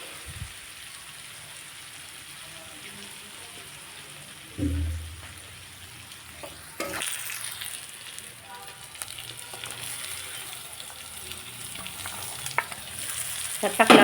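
Tomatoes fry in a pan with garlic and coconut, a continuous close sizzle with occasional stirring scrapes and a burst as ingredients drop in, sizzling growing livelier toward the end.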